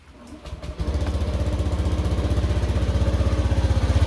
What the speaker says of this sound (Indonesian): kita dengarkan suara mesinnya.